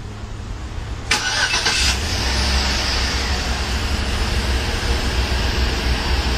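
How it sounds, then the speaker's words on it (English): Chevrolet Tahoe LTZ started with GM's remote start system: a brief cranking burst, then the engine settles into a steady, moderately loud idle hum with no talk. "let's go ahead and start it up, let the engine run for a while"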